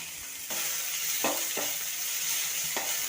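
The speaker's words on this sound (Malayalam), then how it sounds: "ഇഞ്ചി ഇട്ട് ഒന്ന് ആ വെളിച്ചെണ്ണയിലൊക്കെ കിടന്ന് വാടിക്കഴിയുമ്പോൾ" Chopped ginger sizzling in hot coconut oil in a pan while pasta is being made, a steady close frying crackle with a few utensil scrapes and taps from stirring.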